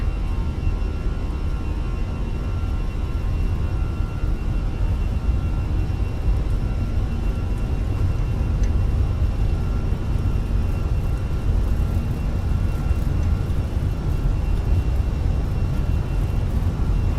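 A steady, loud engine roar and whir of an aircraft taking off in a flight video game, continuous and even throughout with no voices.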